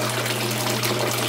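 Water drains steadily through a loop siphon in an apartment aquaponics grow bed, giving a continuous close gurgling rush with a low pump-like hum beneath and no talking.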